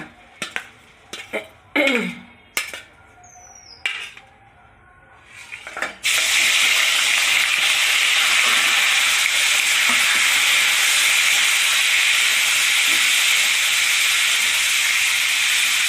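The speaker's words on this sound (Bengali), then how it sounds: "মাছটা একটু ভেজে নিই।" Jiyel stinging catfish going into hot oil: a few sharp clatters and knocks, then a sudden loud, steady hissing sizzle that holds unbroken for the remaining ten seconds.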